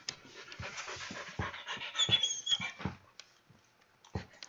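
A playful puppy pants in quick breathy bursts and gives a few soft whimpers, close by, with short pauses between bursts.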